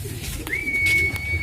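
A soft pigeon call with a steady whistling tone rises and holds briefly over quiet background noise, with no voices.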